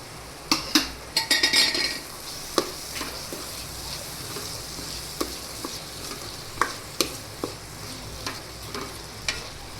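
Green turmeric going into cooked-down onion and tomato in a pan, with a spoon stirring and clinking against the metal over a soft, continuous sizzle, close and without speech.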